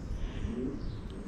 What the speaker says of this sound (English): I can hear some birds cooing.